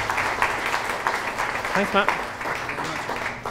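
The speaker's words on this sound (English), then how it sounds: "let's get a round of applause for John" Meetup audience clapping for a speaker at a UX and data event, moderate applause running under a short spoken thank-you from a nearby voice.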